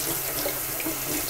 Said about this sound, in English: Now what I'm going to do is run the cold water through